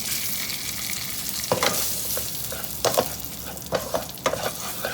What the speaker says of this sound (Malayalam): നന്നായിട്ട് ഒന്ന് ഇളക്കിയെടുക്കാം.